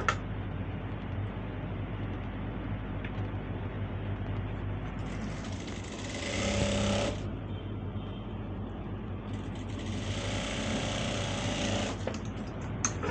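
A sewing machine runs in two short, fairly quiet bursts while stitching pintucks on trousers, with a low background hum in between.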